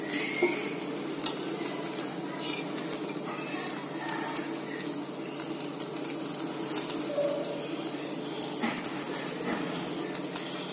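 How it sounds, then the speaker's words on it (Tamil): Malabar chicken dum biryani in a pot is stirred and mixed, a continuous soft sizzle and rustle of rice with light scraping scattered throughout, close and fairly even with no voices. "தம் பிரியாணி லைட்டா கலட்டி விட்டு மிக்ஸ் பண்ணிட வேண்டியதான்"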